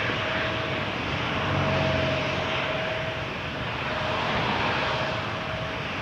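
A plane at Toronto Pearson Airport, probably a jet, gives off a steady broadband roar that swells slightly and then eases, heard from a moderate distance. A faint constant tone sits under it and no one speaks.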